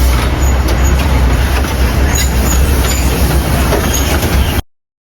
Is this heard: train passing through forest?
yes